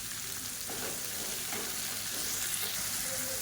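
Chopped tomatoes with salt sauté for chutney in a pan, giving a steady, close hiss of sizzling with faint stirring scrapes throughout.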